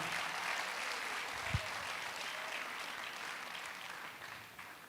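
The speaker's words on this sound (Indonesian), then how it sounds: "Mari kita berikan tepuk tangan yang meriah." A keynote talk-show audience claps in a steady, moderately quiet wash of applause that continues evenly, with one brief thump partway through and a slight fade near the end.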